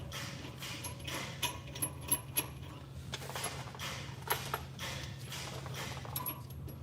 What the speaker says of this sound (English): Let's go ahead and put our lug nuts on.